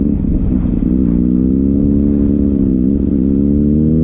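Kawasaki Ninja ZX6R engine under way while riding, a loud, close, sustained drone whose pitch rises gradually and wavers slightly with throttle changes, no talk over it.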